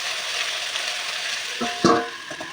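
Chopped drumstick pieces and potatoes fry in a pan with a steady broadband sizzle throughout, and a few louder stirring scrapes and clatters come near the end.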